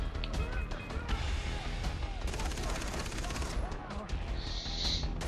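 Rapid machine gun fire in the video game Far Cry 3, loud and close, with dense bursts of shots rattling almost continuously and a brief high ringing tone near the end.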